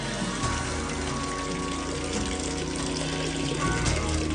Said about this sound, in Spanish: El agua fluye a lo largo de este conducto durante 1 kilómetro hasta llegar al castillo.